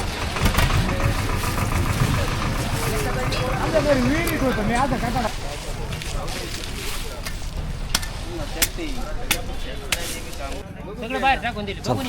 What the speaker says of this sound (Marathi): ट्रॅक्टरवरून चालला.